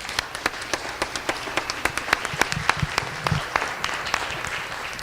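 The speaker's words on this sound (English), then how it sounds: "If you'll please give them a round of applause." Audience applause at a recognition ceremony, a moderately sized group clapping steadily with distinct individual claps standing out, close and fairly loud with no talk.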